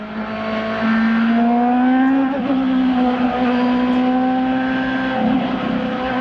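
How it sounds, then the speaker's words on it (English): A race car engine at the 1997 Michigan 500 runs loud and sustained with a steady droning note that rises and shifts slightly as it holds at high revs, close and continuous throughout with no talk. "Getting word from some of the corners out on the racetrack that the engine sounds odd."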